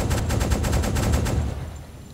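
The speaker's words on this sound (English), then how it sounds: "tell the other members of the crew to open fire on the ship" Deck gun crew on a U-boat in the game Uboat opening fire on a ship: a fast burst of roughly a dozen loud, evenly spaced shots that fades out at the end.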